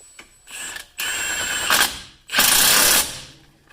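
Impact gun fitted with a 50 mm socket working the axle nut of a 2017 Ford Escape, giving loud, close mechanical bursts separated by brief pauses.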